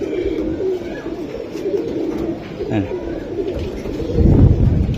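A pigeon being shown for sale coos in repeated low throaty notes, close to the microphone, over a busy background of voices and movement.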